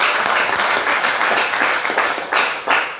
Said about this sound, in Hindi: एक जोरदार ताली प्रदीप जी के लिए।